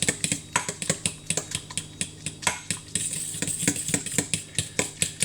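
A spoon stirs a homemade honey cough remedy in a cup or bowl, with rapid, repeated clinks and scrapes against the sides, close and fairly loud, carrying on steadily with no talk.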